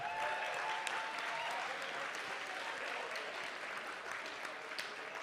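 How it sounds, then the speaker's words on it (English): An audience at a red carpet event at the Kwanlin Culture Center gives a round of applause for Madi Dixon, fairly faint and even clapping from a crowd that fades slightly toward the end. "Let's give another round of applause for Madi Dixon."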